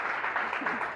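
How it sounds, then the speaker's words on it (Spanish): Church congregation applauding in a Spanish-language worship service, a dense steady wash of clapping that fills the whole second with no break. "Otro aplauso, gloria sea al Señor."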